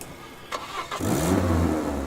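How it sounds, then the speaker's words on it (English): A car engine in the video game This Is the Police cranks and starts, then settles into a low, steady purring idle, close and clear with no talking. "listen to our new car. It purrs."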